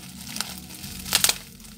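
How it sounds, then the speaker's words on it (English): Strong-grip scissors cutting through plastic bubble wrap folded several times make a brief crinkling snip with a louder burst of crunching near the end, close and clear. "this is a bubble wrap, plastic bubble wrap, which I folded few times, and I will cut this"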